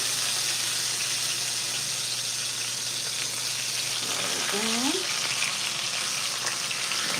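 T-bone steaks sear in a hot pan with a steady, loud broadband sizzle that runs throughout. A short rising squeak or utensil scrape cuts in near the middle.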